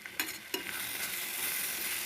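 Tomato and spice masala sizzles in hot oil left over from frying prawns and jackfruit, with a steady frying hiss and a couple of sharp spatula knocks against the pan near the start.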